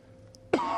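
One short, sudden cough comes near the end after a quiet stretch, loud and close, while someone moves about in a dark, creaky house.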